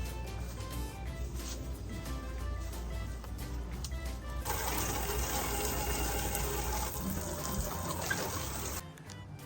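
Running water pours steadily from a tap to rinse something, a soft continuous gush that grows fuller and louder partway through, then cuts off abruptly near the end.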